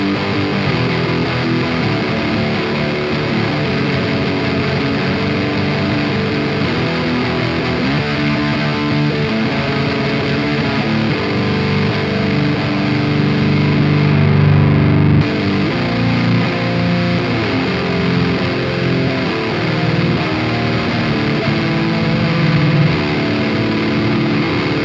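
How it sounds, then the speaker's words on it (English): Electric guitar chords heavily saturated through a Vola OZ ROA fuzz pedal, loud and thick, shifting from chord to chord in a continuous progression with no talking. "I want to mess and just see what a chord progression sounds like with the fuzz pedal"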